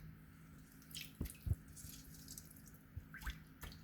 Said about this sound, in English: I'm squeezing some lime on it.